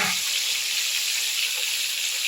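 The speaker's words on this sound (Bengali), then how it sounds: "আমি সব চিকেনগুলো একটুখানি ফ্রাই করে নিচ্ছি।" Chicken pieces frying in oil with no salt or spices yet, partly fried, giving a steady broadband hiss and sizzle that holds even and continuous throughout.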